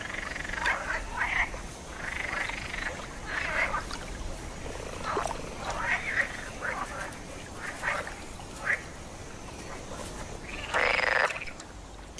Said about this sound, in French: Ces inlassables choristes sont des grenouilles vertes, des mâles en quête d'une partenaire